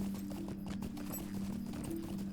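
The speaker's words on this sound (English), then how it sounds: "a travel where the horse automatically runs for you" Horse hooves clop in a quick, even rhythm during automatic mount travel in the Lord of the Rings Online game, a faint, steady gallop with a low humming tone beneath and no talk.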